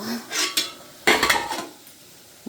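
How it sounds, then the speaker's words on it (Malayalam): A plate in a home kitchen clinks against other dishes as it is lifted and set down, giving two bright clattering bursts, close by and moderately loud, without talking. "ഞാൻ ആ പ്ലേറ്റ് എടുത്ത് അങ്ങോട്ട് വെച്ചാട്ടോ"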